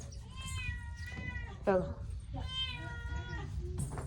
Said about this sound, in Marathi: मांजर बी ओरडायला लागलं बघा त्याला वास आला लगेच